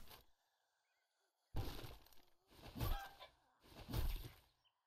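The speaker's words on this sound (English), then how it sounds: "Chicken?" A game chicken in 7 Days to Die gives a few loud, close clucks in three bursts after a short quiet gap, each squawk rising and falling.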